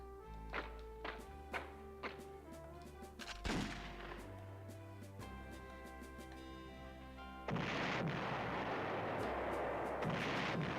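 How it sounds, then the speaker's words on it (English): Artillery fire in the PlayStation game Panzer General: a series of sharp booming shots in uneven rhythm, followed by a louder, denser burst of explosive noise with musical tones underneath. "Yay, artillery."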